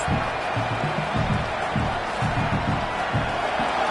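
Stadium crowd at a college football game, Oklahoma at BYU, roaring steadily on a fourth down with rhythmic surges of cheering and chanting, loud and continuous throughout with a commentator talking over it.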